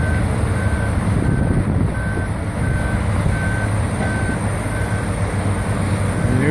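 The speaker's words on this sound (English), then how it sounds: "Here comes another truck." A big yellow dump truck rumbles nearby while its reversing alarm beeps in an evenly spaced series of about eight tones over the low engine noise.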